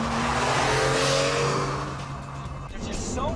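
A Porsche 911 996 with its 300-horsepower 3.4-liter flat-six pulls hard on a Texas test drive, a loud, close engine drone holding steady before easing off near the end.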